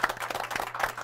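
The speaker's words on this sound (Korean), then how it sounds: "오늘 먼저 수고해주신 그 세 분의 MC 분들 박수 부탁드립니다" Scattered clapping from a small audience at a CEO talk show event, honoring three MCs; brief, fairly loud and uneven hand claps without speech.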